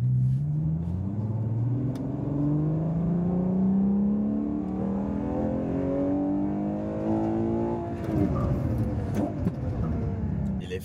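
A Ferrari SUV switched into sport mode accelerates on Dubai streets, the engine note climbing steadily in pitch for several seconds before a sudden shift near the end, loud and close with no talking over it.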